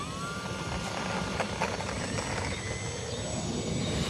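An E-Flite UMX Turbo Timber Evolution RC plane's electric motor runs with the throttle on outdoors, giving a steady, fairly faint whine that holds for several seconds.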